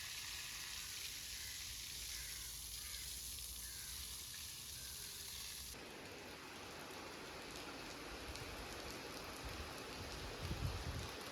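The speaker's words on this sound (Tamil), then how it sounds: "இப்போ எங்கள் ஊரில் மழை பெய்ய ஆரம்பிச்சிருக்குது" Steady rain falls on a village outdoors, a dense even hiss of drops that goes on through the whole stretch, with a few heavier spatters near the end and no voices.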